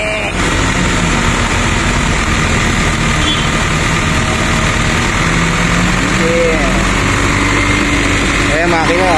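A large truck engine runs loudly and steadily at close range, a dense continuous rumble that fills the whole clip, with people talking over it.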